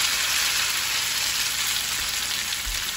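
Boiled noodles hit a hot frying pan for vegetable stir-fried noodles, setting off a loud, steady sizzle that fills the whole stretch with dense crackling, no voices over it.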